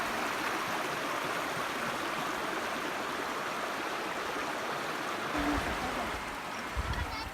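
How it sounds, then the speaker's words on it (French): A waterfall and river near Antsirabe pour in a steady, faint broadband rush, with a few brief voices near the end. "nous apercevons enfin la cascade, mais de loin"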